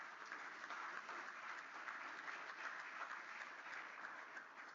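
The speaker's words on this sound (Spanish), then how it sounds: "le ruego le brindemos desde aquí un fuerte y caluroso aplauso a nuestro" Sustained applause from a legislative session audience greeting the governor, an even dense patter of many hands, heard at a moderate distance with no talk over it.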